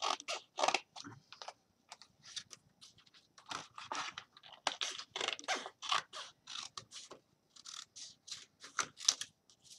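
Scissors snip through a paper template for a pineapple champagne hostess gift, giving a close, quiet run of quick crisp cuts in irregular bursts with short pauses between.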